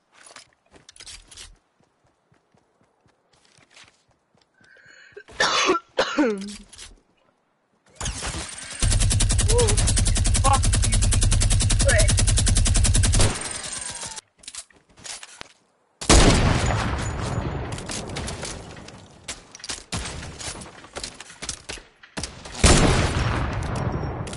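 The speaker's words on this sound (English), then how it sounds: "I just realized you can make a sick ass beat with the pistols" Rapid pistol fire in a one-on-one video game match comes in loud, dense bursts of repeated shots, separated by quiet gaps and a few scattered single shots, with no talking.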